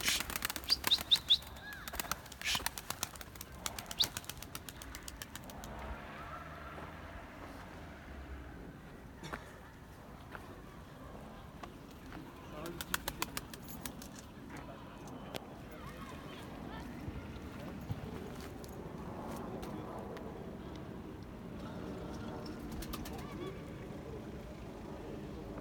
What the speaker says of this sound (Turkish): kuşlar geri geldi